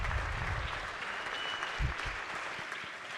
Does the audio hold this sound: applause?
yes